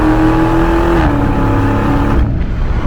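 A Dodge Scat Pack weighing 4,300 pounds revs hard at full throttle, a loud, steady engine roar climbing in pitch and then shifting down before building again, close and continuous with no talking.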